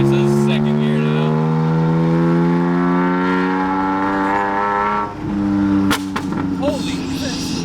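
BMW M3 GTR race car engine revving hard in second gear, a loud harmonic howl rising steadily in pitch, then a sharp gearshift break with pops and crackles as revs drop.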